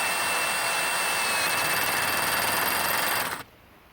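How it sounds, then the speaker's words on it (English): A power driver drives a steel fastener while a steel wicker patio chair is assembled, a steady close whirring drone that runs for over three seconds and then cuts off abruptly. "Once the fastener catches, you just drive it in."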